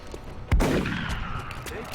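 A single sharp shotgun blast in the video game XCOM: Long War, a loud close crack followed by a rumbling tail that fades over about a second, with faint game ambience around it.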